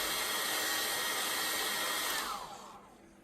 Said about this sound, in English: Using a hairdryer, heat the display surface for 1 or 2 minutes